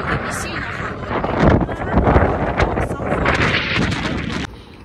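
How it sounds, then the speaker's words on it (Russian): Strong gusty wind buffets the microphone outdoors on a city street, a steady loud rumbling roar with surging peaks that eases off near the end. "Ветер срывает. Ну, ветер как бы нормальный, не сильно холодный."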